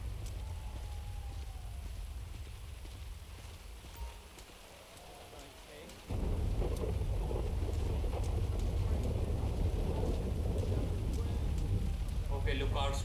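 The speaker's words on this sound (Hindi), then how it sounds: "बारिश और थंडरस्टॉर्म की वजह से साउंड वो नहीं हो रही ना" Rain and thunderstorm in the video game GTA 5: soft steady rainfall gives way midway to a much louder, denser downpour roar with low rumble, and faint voice-like tones drift through the quieter first part.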